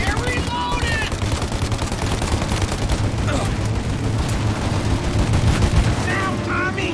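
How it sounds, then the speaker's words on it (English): Dense, continuous gunfire rattles through a shootout in the Mafia Definitive Edition video game, with rapid overlapping shots and bursts filling the whole stretch while shouted voices break in over the din. "Shoot out your gun when there's a break in the fire!"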